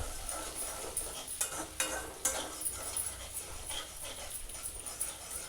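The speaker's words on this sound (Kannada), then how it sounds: "ಇದನ್ನು ಚೆನ್ನಾಗಿ ಫ್ರೈ ಮಾಡ್ಕೊಳ್ಬೇಕು" Soya chunks fry in a pan with a close, continuous sizzle, and a spatula repeatedly stirs and scrapes them in irregular bursts.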